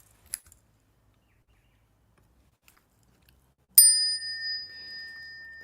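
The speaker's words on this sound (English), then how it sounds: "We want to include the bell song." A small Buddhist ritual bell sounds twice: a faint early tap, then one clear bright ring that lingers with a long, steady shimmering tone in otherwise quiet surroundings.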